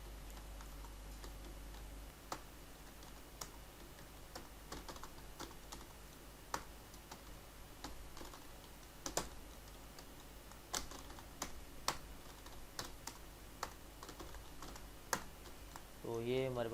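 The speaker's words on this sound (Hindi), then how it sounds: "यहाँ पे मैं कोई चीज़ ये टाइप कर देता हूँ" Someone types on a computer keyboard, a quiet run of irregular, crisp key clicks and taps spread through a steady low hum, with a few louder keystrokes and a brief warbling tone at the very end.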